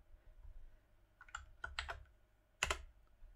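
A few scattered keystrokes on a computer keyboard while renaming a file, with a short pause and then a brief burst of clicks near the end, faint and close.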